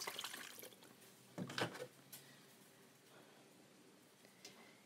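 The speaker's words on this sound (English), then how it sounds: "I'm going to put a little bit of water in there." Water poured into an Instant Pot before cooking Polish stuffed cabbage rolls, a soft splashing trickle with a louder burst near the middle and faint drips afterward, no talking.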